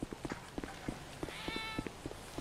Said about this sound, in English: I hear cats.